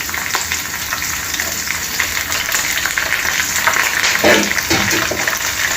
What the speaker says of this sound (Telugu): ఇవి కొంచెం 1 నిమిషం పాటు మనము బ్రౌన్ కలర్ వచ్చే వరకు వేయించుకుందాము.